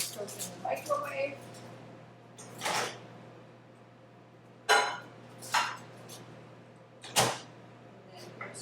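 Ceramic dish clatters and clinks against a surface in a few sharp knocks as it goes into a microwave, with a door-like thud, close by amid quiet kitchen noise.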